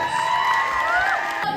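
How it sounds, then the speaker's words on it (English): A lively audience at a bodybuilding competition cheers and whoops loudly throughout, with high-pitched shouts rising above the din. "Audience members, a round of applause."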